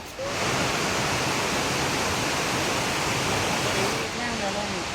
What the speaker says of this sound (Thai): น้ำตกเข็มนะคะ